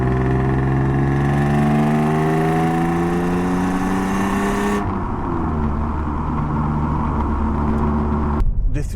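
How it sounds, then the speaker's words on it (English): A BMW E36 328i engine growls and revs through a low rumbling exhaust, pitch rising steadily before cutting off abruptly near the end. "The sound you get from the exhaust is just about enough for my liking."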